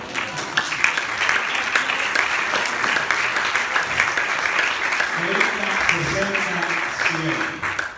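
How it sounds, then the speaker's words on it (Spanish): A church congregation claps for the Lord during a sermon, steady dense applause throughout with faint voices and a short musical or vocal phrase rising beneath it later on. "De un aplauso al Señor."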